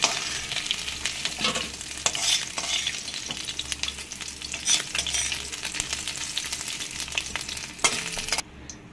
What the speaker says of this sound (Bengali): বাকি মাছগুলোকেও এইভাবে ভেজে নেব।